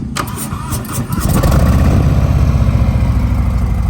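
A 2019 Harley-Davidson Sport Glide motorcycle engine cranks briefly, then catches and settles into a loud, deep, steady idle close by.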